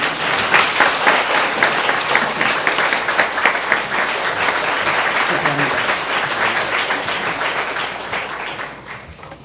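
A congregation at a church service marking an education building's completion and an ordination applauds loudly with many hands, a thick continuous clapping that stays strong before tapering off near the end.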